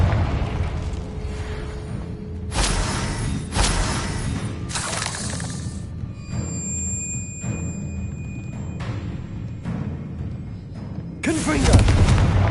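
The Confringo fire spell blasting eggs in Hogwarts Legacy, several loud booming bursts spaced a second or two apart, with shimmering magical tones ringing between them over a rumbling game backdrop.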